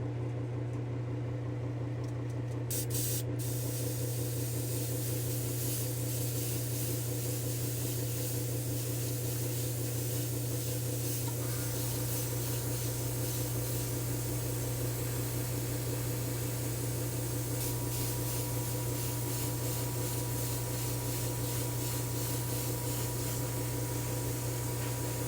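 Silver sealer spray paint hisses from an aerosol can onto a taped-off Hot Wheels diecast van, a faint, continuous broadband spray that starts after a brief pause and runs steadily to the end.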